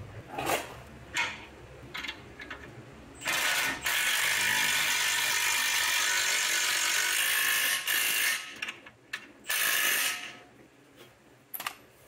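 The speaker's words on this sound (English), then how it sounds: "it's a 21, and I'm just gonna take an impact and bring that up." An impact wrench on a 21 mm socket tightens the outer tie rod end lock nut on a 2016-2022 Mercedes-Benz GLC X253, opening with short ratcheting clicks, then a loud sustained four-second hammering run followed by a few brief bursts, close and without talk.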